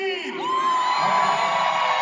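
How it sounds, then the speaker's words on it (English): Crowd at an MLK rodeo whooping and screaming together in a loud, sustained cheer, voices rising and holding for about two seconds. "Now somebody scream."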